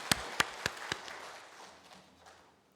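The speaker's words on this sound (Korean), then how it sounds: "우리 하나님께 영광의 박수 올려드리시겠습니다" A church congregation gives a short round of applause: four sharp claps stand out near the start, then a softer, thinning patter fades away over the next two seconds, fairly faint overall.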